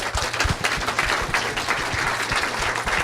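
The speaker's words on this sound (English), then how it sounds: "Give her a big round of applause." Sustained crowd applause at a panel discussion, dense and even, many hands clapping together throughout.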